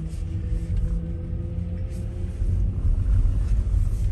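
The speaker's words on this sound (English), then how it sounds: "I am sitting in the passenger seat to show you the drive of the BMW iX." Cabin of a 2022 BMW iX xDrive50 electric SUV on the move, heard from the passenger seat: a low, steady road rumble with faint tyre noise and no voices.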